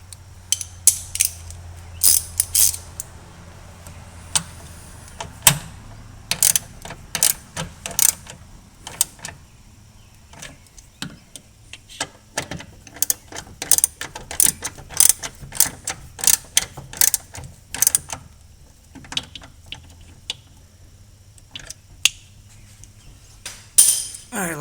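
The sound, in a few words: ratchet tightening bolts on a Porsche 928 ignition coil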